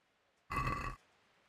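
A single loud burp lasting about half a second, heard alone with faint background before and after.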